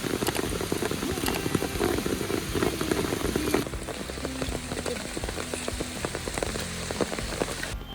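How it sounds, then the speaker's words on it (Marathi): Monsoon rain falls on the misty forest at Matheran as a dense, close patter of drops on leaves and ground, heavy at first and then easing to a lighter, steady shower. "आज माथेरानमध्ये धुका आहे पावसाच्या सरी आहेत"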